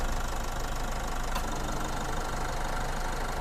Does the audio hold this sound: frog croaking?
no